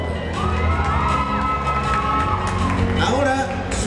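A crowd at a cosplay show cheers loudly, with shouts, whoops and high voices rising together in a sustained burst of excitement close by.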